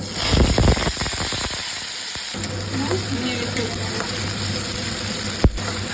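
Banana stem paste with cumin frying in hot oil in a wok for Bengali thor bata: a steady, close sizzle with brief stirring scrapes near the start.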